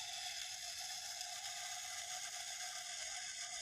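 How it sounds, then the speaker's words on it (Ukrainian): An old film camera's self-timer, found on a scrap heap, runs with a steady, rapid mechanical ticking and whirring. The sound is close and faint, and it continues evenly with no talk over it. "Ага, це це таймер, нічого собі."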